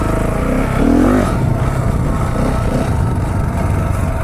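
A KTM 690 Enduro single-cylinder motorcycle engine drones loudly and close while riding, swelling briefly as the throttle opens, then settling back to a steady rumble.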